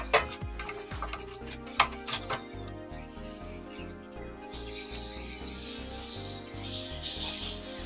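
A swiftlet-house roosting call plays through audio equipment: repeated high, electronic-sounding swiftlet chirps over a layered, rhythmic background with clicking pulses, steady and moderately loud throughout.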